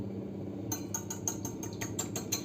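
Quick metallic clinks of a whisk beating a single egg in a bowl, a steady rapid rhythm of light taps over a low background hum.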